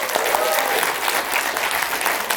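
Audience clapping loudly and steadily at a Kannada stand-up comedy show, a dense continuous wash of hand claps with faint crowd murmur underneath.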